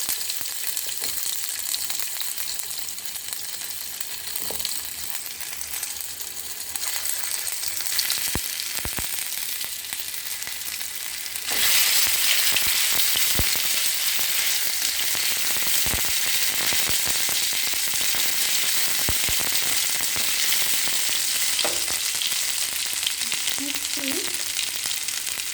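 Ginger garlic paste frying in a pan on a low flame, a steady soft sizzle that grows louder and brighter midway and carries on continuously, with a few faint clinks.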